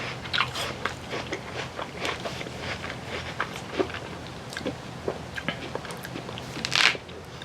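Close, intimate crunching as a crisp apple is bitten and chewed, with repeated sharp crisp bites and wet chewing over several seconds and no talking.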